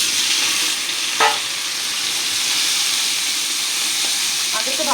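Fish frying in a pan for a leafy greens curry, a steady close sizzle and hiss with a couple of brief clinks, no voices.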